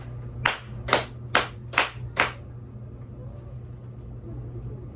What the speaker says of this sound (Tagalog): Bigyan ng 5 palakpak